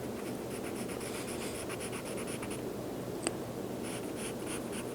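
A pencil sketches a portrait on paper in a figure-drawing lesson, giving a steady close scratchy rasp of continuous strokes with brief pauses and one sharp tap partway through.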